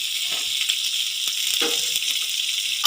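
Steady, close sizzling of vegetables frying in a pan, with a few light scrapes and clicks of stirring, no voices.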